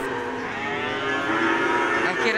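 A cow at a large livestock market in Gunungkidul lets out one long, loud, drawn-out moo that swells slightly toward the end, close by and with no talking.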